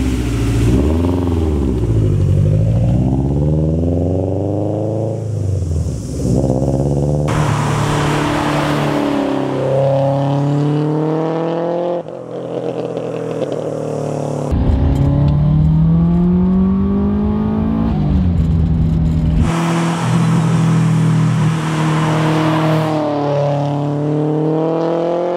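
A modified Subaru Impreza WRX making over 500 horsepower, with a top-mount intercooler, an aggressive cam and a Perrin oil cooler, drives on the road. The engine climbs loudly through the revs with repeated rises and gear changes, close and steady, with no talk.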